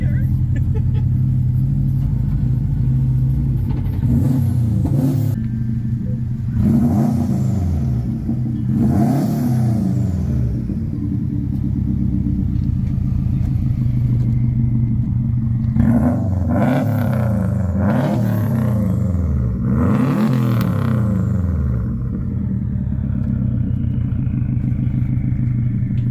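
A drift car with a welded differential drives nearby, its engine revving repeatedly in rising and falling surges over a steady low rumble, with some clatter and occasional voices mixed in.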